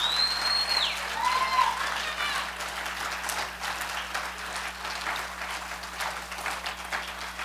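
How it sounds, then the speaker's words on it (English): A church congregation at an Easter Sunday service applauds, a scattered, moderate clapping that fades and thins over several seconds, with a low steady hum beneath and a few voices calling out early on. "So I'd like to ask you to just give her another hand of applaud"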